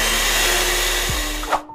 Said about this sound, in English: Whisking time!